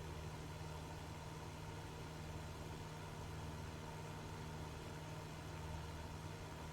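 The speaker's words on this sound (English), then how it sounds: "So we're not redlining the crap out of the engine." An aircraft engine in Microsoft Flight Simulator 2024 hums steadily at low volume, a constant droning tone with no change in rhythm and no talk over it.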